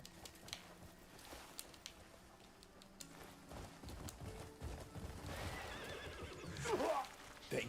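A horse in the video game Crimson Desert whinnies faintly near the end, above quiet game ambience and soft hoof-like ticks.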